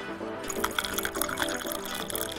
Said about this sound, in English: Add your tea leaves and some hot water.